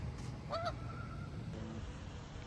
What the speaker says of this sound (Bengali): এটা হচ্ছে সাদাগুলোর শব্দ